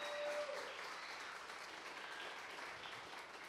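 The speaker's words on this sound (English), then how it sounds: "I want to give a huge hand round of applause to Ryan and Mandy." A soft, steady round of applause from a church congregation on Youth Sunday, heard from a distance as a quiet, even wash of clapping throughout.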